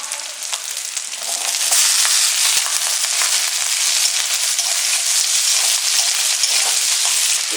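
Chopped onion and potato hit hot mustard oil with nigella seeds and dried chilli, and a loud, dense sizzle swells within the first couple of seconds, then roars on steadily, close up, with no voices.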